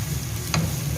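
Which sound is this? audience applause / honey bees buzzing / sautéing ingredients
sautéing ingredients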